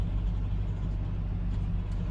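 A vehicle hauling an RV engine-rumbles steadily as it backs down a residential cul-de-sac street, a low continuous drone heard from nearby.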